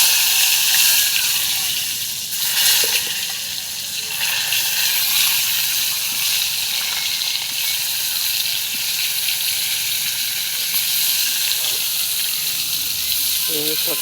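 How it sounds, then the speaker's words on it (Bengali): Slices of pointed gourd (potol) sizzling in hot oil in a home kitchen, a steady loud frying hiss that continues evenly throughout, with occasional faint clinks and small crackles near the end. "পটল ভাজাটা বসিয়ে দেবো এবার"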